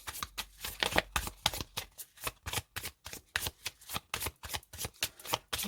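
A Modern Witch Tarot deck being shuffled by hand, rapid rhythmic bursts of card riffling and flicking in quick succession, close and continuous without speech.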